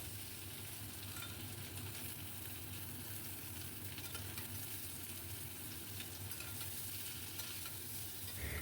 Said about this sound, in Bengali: এবার সেদ্ধ করা আলুগুলোকে বেশ ভালো করে ভেজে নেব